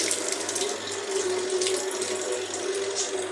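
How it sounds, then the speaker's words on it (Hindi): Water from soaked rice poured off into a sink while making kheer, a steady splashing stream running continuously and close, with no talk over it. "पानी को मैं गिराने लगी हूँ"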